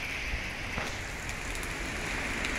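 Steady rain patters and hisses on surfaces nearby, with a few louder drops and drips standing out from the constant wash.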